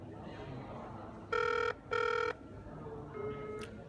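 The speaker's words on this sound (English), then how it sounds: "and then it will call the phone number of the finder." A phone rings when a find-and-remind microprocessor system calls the finder's number: two loud electronic ring bursts in quick succession, followed by a fainter short tone, over a low background hum.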